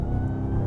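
A RAM TRX Final Edition pickup truck's engine pulls hard in sport mode on a track, a deep, loud, close-up growl sustained through a brief moment.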